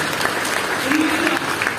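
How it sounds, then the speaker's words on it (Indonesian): Congregation in a church claps together for Jesus during a sermon, a loud sustained round of applause with a voice speaking over it. "Kasih tepuk tangan dulu buat Tuhan Yesus."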